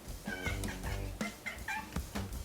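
A cat meows and growls close by in a home, a string of short, harsh, rising yowls and grumbles with brief pauses between them, no talking.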